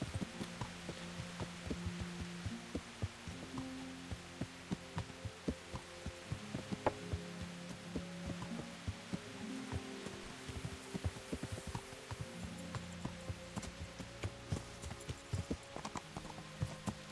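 Horse hooves clip-clopping in a steady galloping rhythm in Kingdom Come Deliverance, close and continuous under a layer of game ambience and music-like tones.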